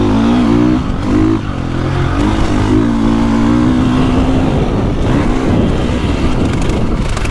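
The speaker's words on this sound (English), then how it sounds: "These 450s, this engine is so good." A 2024.5 KTM 450 Factory Edition motocross bike ridden on a dirt track, its engine loud and close, revving hard with rising and falling pitch through gear changes and throttle blips.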